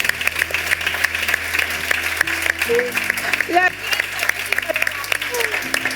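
An audience at a Spanish-language leadership talk claps in sustained applause, a dense patter of many hands close by, with a voice speaking over it.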